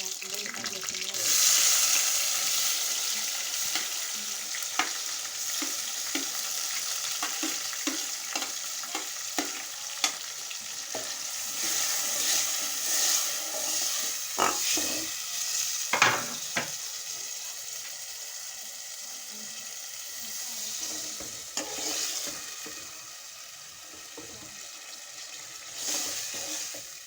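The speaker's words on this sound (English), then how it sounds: "And this is now to cook the tomatoes to be soft" Tomatoes cook in a pan with golden-brown fried onions for a Kenyan staple dish, giving a long, steady sizzle with repeated stirring scrapes and clinks, and brief talk now and then.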